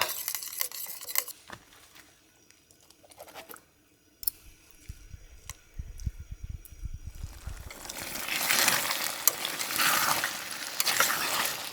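A pan of sauce with undrained fat is stirred over a camp stove while tent-box camping in Scotland: scraping, clinking strokes at first, then a loud, steady sizzle swells near the end, with no voices.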